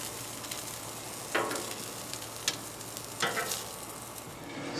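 Teriyaki meatballs cook on a griddle's warming rack, giving a steady faint sizzle with a few brief scraping bursts, quiet and close with no talking.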